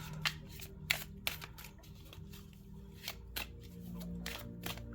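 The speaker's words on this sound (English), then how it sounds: "This shuffle's a little better." Tarot cards being shuffled by hand in a quiet room, a series of crisp riffling bursts and soft slaps at an uneven rhythm, close and fairly faint.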